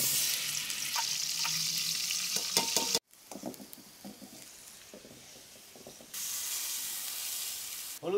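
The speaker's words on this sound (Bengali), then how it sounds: "মশলা কষানো হয়ে গেছে" Spices, onion and garlic paste frying in oil with turmeric, cardamom and salt for a fish curry, a steady sizzling hiss that cuts out and drops to quieter stirring and clinks before resuming.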